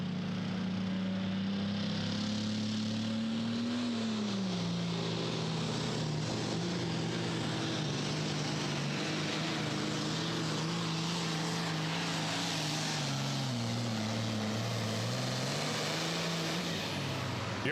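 A super farm tractor's engine roars at a tractor pull in Hillsboro, Wisconsin: one continuous, loud, droning blast whose pitch sags as the revs get pulled down, with no break or speech.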